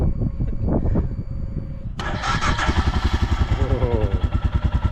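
A 2022 fuel-injected Royal Enfield Himalayan motorcycle is started close by. A starter whirs and cranks, then the single-cylinder engine fires at about the two-second mark and settles into a loud, rhythmic, thumping idle.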